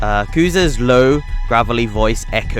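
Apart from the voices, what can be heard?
No everyday noise stands out behind the speech.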